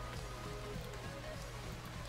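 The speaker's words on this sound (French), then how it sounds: "avec donc des gouttes de pluie qui tombent" Steady rain patters on the Silverstone circuit in the racing game MotorSport Manager, a constant, even wash of drops with a low hum beneath, no voices.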